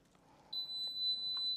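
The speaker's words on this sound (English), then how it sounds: "That beep's letting us know that oven has cranked to 350" A single sustained electronic beep from an oven signalling it has preheated to 350, high-pitched and steady, sounding over a faint quiet room background.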